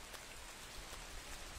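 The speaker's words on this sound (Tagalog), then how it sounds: "Umuulan. Saan siya magtatago?" Steady rain in Metal Gear Solid 3: Snake Eater hisses and patters evenly throughout, a constant wash of droplets with no voices.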